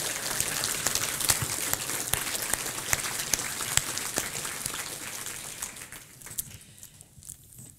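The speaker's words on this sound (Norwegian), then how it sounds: "En applaus til Sten Ludvigsen." Audience applause at a leadership conference in Oslo for a university professor, a dense steady patter of many hands at moderate distance that thins and fades toward the end.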